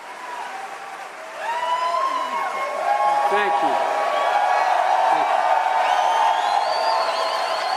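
A wonderful crowd at a political rally for a politician cheers and applauds loudly and continuously, with whoops rising over the steady roar while a man thanks them.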